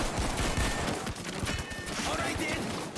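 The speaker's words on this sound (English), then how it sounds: "that was like an entire shotgun shot, 11 bullets" Close-range shotgun blasts ring out in Payday 2 during The Dentist: Hoxton Revenge mission, a dense, rapid barrage of loud, overlapping shots with clatter running through the whole stretch.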